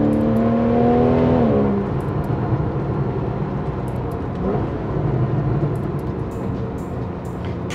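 A Porsche 911 991 Carrera 4S engine accelerates hard out of a corner, climbing in pitch before a gear change, then a sustained loud drone of engine and road noise from inside the car, no talking.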